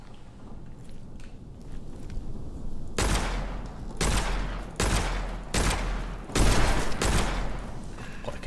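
Loud weapon shots from the dark fantasy shooter Witchfire, arriving as a handful of heavy blasts spaced roughly a second apart after a quieter stretch of low ambient rumble.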